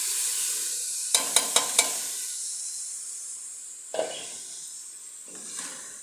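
Potatoes dropped into hot oil in a home kitchen pan crackle with a few sharp pops, then settle into a steady, soft frying sizzle with brief bursts of spatter.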